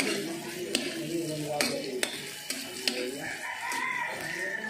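Garlic and chili sizzling and frying in a pan, a steady close crackle with several sharp clicks of a utensil against the pan and a faint voice in the background.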